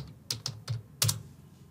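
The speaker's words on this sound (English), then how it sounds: "I'm going to type pabbly.com." Quick keystrokes on a computer keyboard while a web address is typed, a short run of close, crisp taps in an irregular rhythm with a brief pause partway through.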